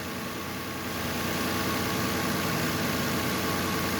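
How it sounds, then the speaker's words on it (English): A 2017 Nissan Murano's engine idles steadily, a constant broadband hum and hiss with no variation in level, heard close and alone without any talking. "Okay, with the motor running."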